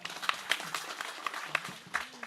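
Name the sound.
audience clapping at a kirtan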